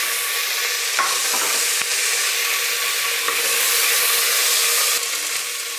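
Raw field beans fry in a pan with curry leaves, a loud, steady sizzle running throughout, broken by several short scraping taps as they are stirred.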